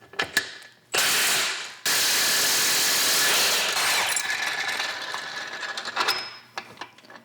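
An impact wrench drives out the differential bushings on a BMW E46, close and loud with bursts of sustained whirring hammering and short clanks between them.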